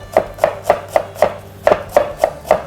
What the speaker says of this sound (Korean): 양파를 곱게 다지시고